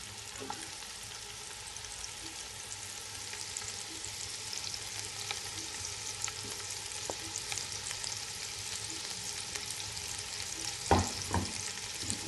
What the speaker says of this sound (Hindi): अब हम शिमला मिर्च को फ्राई कर लेंगे, इसको भी हमने 2 मिनट फ्राई करना है।